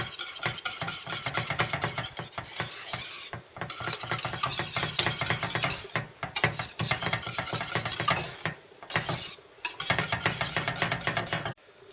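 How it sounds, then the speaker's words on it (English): Butter is stirred into thickened cream in a pot with rapid, steady scraping strokes of a utensil against the pot, close and continuous with a few short pauses, on a stove just turned off. "I'm going to add the butter and mix it together"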